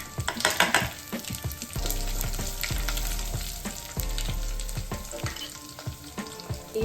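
Curry leaves and dry red chillies crackle and spit in hot oil for vegetable upma, a loud, dense sizzle with sharp pops and occasional utensil scrapes, close and continuous with no voices.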